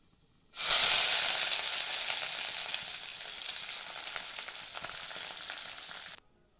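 Fenugreek, red and green chillies, and curry leaves hit hot oil for a fish curry, giving a loud, steady, close sizzle that flares up at once and then holds evenly until it stops abruptly.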